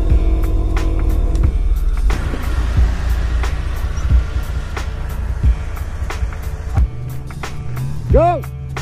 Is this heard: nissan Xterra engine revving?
yes